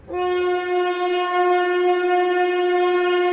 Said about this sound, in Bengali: এদিকে ট্রেন চলে গেল।